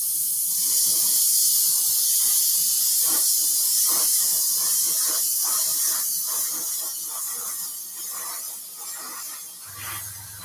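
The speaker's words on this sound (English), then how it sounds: "So I'm just going to spray a coat over this now." Steady, close hiss of an airbrush or spray can laying a coat of paint over an Airfix 1/24 scale Spitfire Mk IV plastic model, continuous for about ten seconds and easing slightly toward the end.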